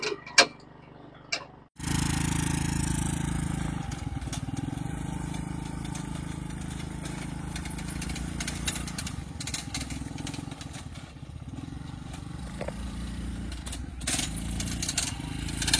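A scooter engine fitted in a homemade Formula 1 style car runs steadily after starting, a close, continuous rattling drone with ticking texture and small surges as the throttle is opened.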